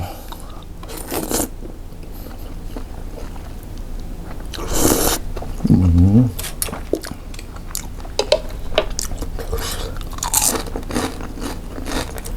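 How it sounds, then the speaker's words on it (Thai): Someone eats spicy papaya salad with rice noodles and pork sausage, close crunchy bites and chewing in scattered bursts against a quiet background, with a few soft clicks and scrapes. "มาครับทุกคนกินตำเส้นเล็กครับ"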